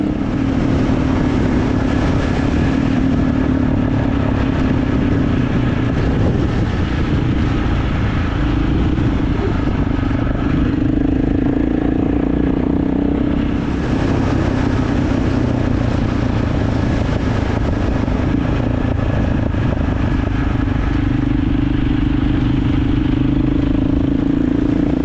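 A KTM adventure motorcycle cruises along an open road, its engine droning loud and steady alongside constant wind rush and a brief shift in tone partway through.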